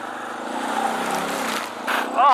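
Motorcycle engine droning steadily while riding across muddy ground, with a rough continuous mid-range roar that briefly dips and then swells louder at the end.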